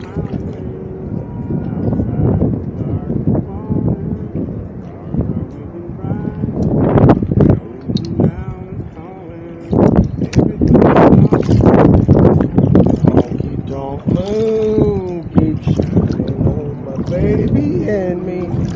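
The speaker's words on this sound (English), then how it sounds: "it's so windy" Strong wind roars and buffets the microphone while people talk over it outdoors on the Tennessee River during a kayak trip, with an engine-like rumble running underneath.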